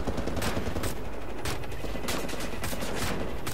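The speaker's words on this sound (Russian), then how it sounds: "там еще какой-то шкрек стреляет вдалека" Gunfire in the Berlin catacombs of the video game Wolfenstein: The New Order comes as a steady stream of rapid, machine-gun-like bursts and volleys that never let up.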